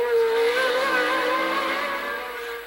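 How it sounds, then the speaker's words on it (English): A Formula 1 race car at the 1981 Monaco Grand Prix screams past with a high, sustained engine whine, loud and close at first and then slowly easing as it pulls away. "Marc Surer has got a whole line of cars closing up behind him"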